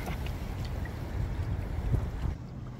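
Wind gusting at a lakeside pike fishing spot in Northumberland, a loud, steady rushing roar across the microphone that drops off near the end.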